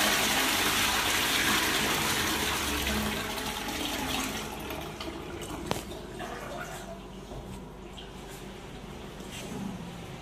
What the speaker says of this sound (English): Give her a flush.